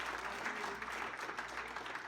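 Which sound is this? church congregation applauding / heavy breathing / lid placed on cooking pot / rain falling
church congregation applauding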